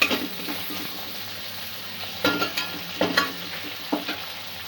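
Cashew and tomato mixture is stir-fried in a pan for a Bengali vegetarian chhana bora curry: a soft continuous sizzle broken by several sharp scraping strokes of a spatula, close by, with no talking.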